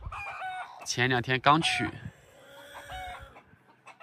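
Hens clucking and a rooster crowing on a rural farm, a loud close crow in the middle followed by softer clucks, with a brief spoken phrase.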